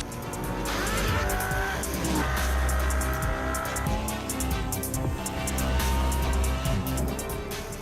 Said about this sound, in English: The roar of the engine, the snap of the dual-clutch transmission